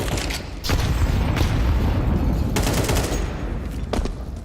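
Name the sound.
grenade explosion in Counter-Strike video game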